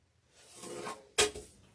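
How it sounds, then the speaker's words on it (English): An indoor door is pushed shut after a soft sliding rub, ending in one sharp close thump near the end, heard close and alone. "Let me reach over here and close this door real quick."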